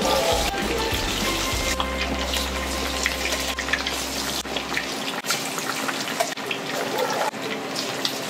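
Battered pork ribs dropped into hot oil for Cantonese sweet and sour pork, a loud continuous bubbling and sizzling hiss that runs steadily throughout with no talk.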